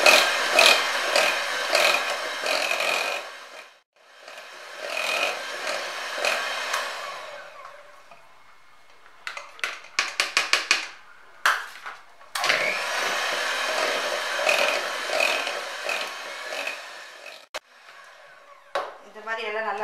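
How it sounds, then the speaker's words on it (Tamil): Steady electric mixer whirring through eggless vanilla cake batter as powdered sugar is added, running in long stretches broken by short pauses and a rattling burst, close and fairly loud. "பவுடர் பண்ணி வச்ச சுகர் இருக்கு இல்லையா, அதையும் நம்ம போட்டு அடிக்க போகிறோம்."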